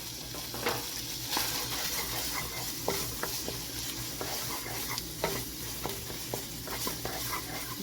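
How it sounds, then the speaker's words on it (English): Julienned, chopped carrots stir-frying for chicken fried rice: a continuous crackling sizzle broken by regular spatula scrapes and taps against the pan. "I julienne some carrots and then chop them up. So just add that to it."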